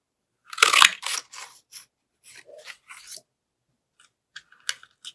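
Close, dry crunching snips of scissors cutting come in a cluster at first, then a few sparse, lighter clips follow with quiet gaps between them.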